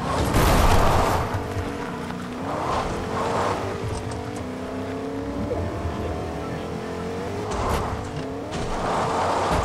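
A race car engine roars and revs in a driving video game, with tires squealing and skidding as it accelerates and corners, loud and close throughout.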